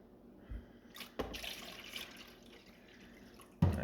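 A tap runs water into a sink, faint and close, with splashing bursts starting and stopping and a louder knock at the end.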